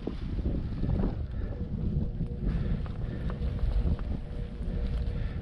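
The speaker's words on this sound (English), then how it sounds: "It is gusty, guys." Gusty wind buffets the microphone outdoors at a paragliding ground-handling site, a steady low roar with rising and falling surges, loud and continuous with no talk.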